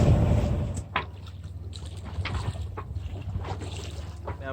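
A sailboat moves through the Strait of Georgia in a gentle southeast breeze, giving steady low rumbling wind and water noise with occasional knocks and splashes close by.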